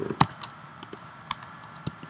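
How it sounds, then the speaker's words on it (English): Someone types on a computer keyboard, a sparse run of distinct key clicks at irregular intervals, close and fairly crisp, with no speech over it. "If I start typing here, hello world"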